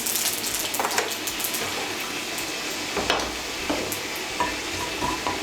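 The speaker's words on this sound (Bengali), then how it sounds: "এই তেলের মধ্যে দিয়ে দিচ্ছি সামান্য একটু কালো জিরে" Nigella seeds (black cumin) sizzling steadily in hot oil in a pan while being stirred, with a continuous close frying hiss and occasional scraping stirs.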